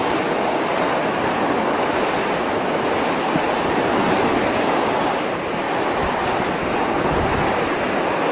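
Constant, loud rushing wind noise from cold winter wind fills the whole stretch, a steady hiss and roar without pauses or voices.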